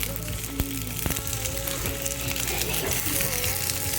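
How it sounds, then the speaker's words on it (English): Soft crackling sizzle of a little oil in a hot skillet while cooking camp food, with scattered clicks and clatter and faint voices in the background. "You can hear that little bit of sizzle going on"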